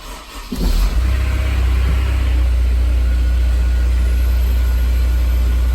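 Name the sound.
Honda S2000 engine starting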